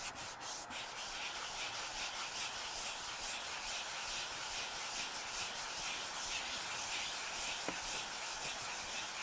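Hand sanding of a wooden dovetailed box with sandpaper, a steady close scratchy rubbing in continuous back-and-forth strokes, fairly quiet, with no talk over it.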